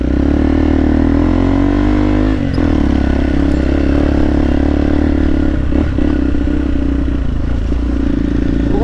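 A motorcycle climbs uphill toward a Buddhist monastery in North Guwahati, its engine droning loudly and steadily throughout with close wind buffeting and occasional clatter.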